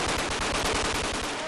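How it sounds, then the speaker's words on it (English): Rapid bursts of gunfire shot into the air at a Hamas fighter's funeral in Gaza, a dense, steady run of many quick cracks sounding loud and close throughout, with no talking. "Don't shoot your bullets in the air"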